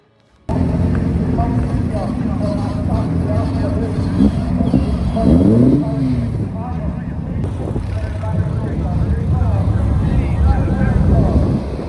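A race car engine idles and revs low at Knockhill circuit, rising into a steady drive-away rumble as it heads onto the track, with voices talking over it throughout.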